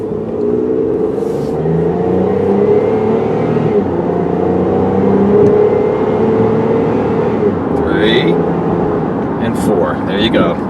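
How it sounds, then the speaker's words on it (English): A 2003 Saturn Vue AWD accelerating from inside the cabin, the engine note rising and dropping as it shifts up through the four gears, with a steady road rumble underneath. "You will see it'll actually shift through all the gears."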